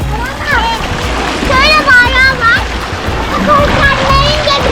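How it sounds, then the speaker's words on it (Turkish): Water splashes and runs down a small children's slide at an aquapark, a steady splattering wash heard close by under children's and adults' chatter. "Evet sular akıyor."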